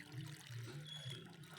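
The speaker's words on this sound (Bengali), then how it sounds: "এই যে জল দিয়ে দিলাম।" Water poured onto a freshly planted aloe vera seedling, a steady low splashing and gurgling that runs unbroken for under two seconds, close and fairly quiet.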